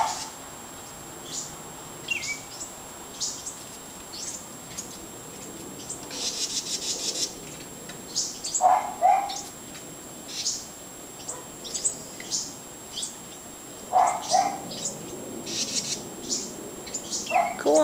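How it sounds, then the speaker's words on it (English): House wren fledglings leaving the nest with other birds calling around them, a steady series of quiet high chirps and short calls scattered throughout, with soft talking in between. "All the other birds are calling them."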